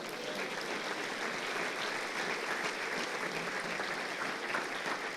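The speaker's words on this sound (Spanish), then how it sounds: "denle aplauso al Señor" Church congregation claps in sustained, steady applause during a Spanish-language sermon, heard from a distance as a dense, even wash of clapping with no talking over it.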